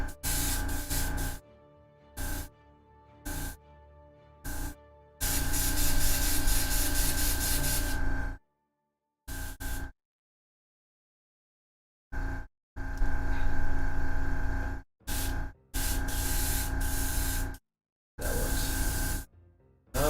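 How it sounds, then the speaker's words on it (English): A malfunctioning airbrush spits paint in loud, uneven bursts. The bursts stop and start abruptly, with several silent gaps between them. No one speaks. "Something's acting up with this airbrush."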